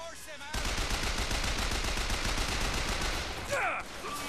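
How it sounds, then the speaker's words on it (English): Rapid, sustained machine gun fire rattles loudly and continuously in the video game Bioshock Infinite, with a brief game sound effect near the end. "Give me the machine gun."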